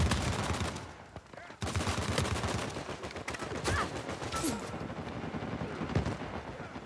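Gunfire rattles through an Uncharted 4 multiplayer match in repeated rapid bursts and single cracks, loud and close, with a few pauses between volleys.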